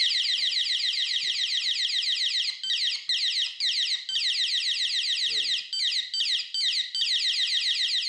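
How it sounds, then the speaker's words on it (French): A loud, piercing emergency-exit alarm at a children's holiday camp shrills in a rapid repeating warble, holding steady with a few brief dips as it cycles, heard up close and alone. "Cette alarme est doublement utile."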